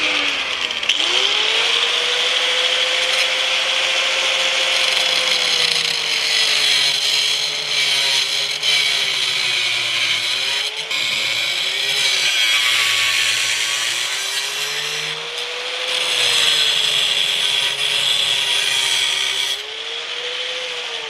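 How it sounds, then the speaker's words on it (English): An angle grinder cuts off a floor jack adapter: a loud, steady high-pitched grinding whine that dips and rises as the blade bites into the metal and runs for a long stretch without voices. "Using the grinder, we've now cut this adapter off."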